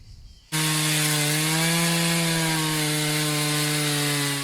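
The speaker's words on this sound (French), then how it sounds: "L'abatteur entame une première découpe sur le bas du fût et s'arrête à environ 1/3 du diamètre du tronc." A chainsaw cuts into a log resting on a support, bucking the lower part of the trunk. The engine bursts in suddenly at full revs after a brief quiet start and holds a loud, steady whine throughout, the pitch sagging slightly under load.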